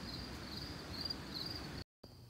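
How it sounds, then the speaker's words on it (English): Crickets fill a workshop with a constant high-pitched chirping drone, steady and moderately distant, with a brief cut to silence near the end. "I have a shop full of crickets"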